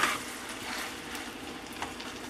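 Fish frying in oil in a pan on an electric stove set to medium high, a continuous close crackling sizzle with scattered louder pops throughout.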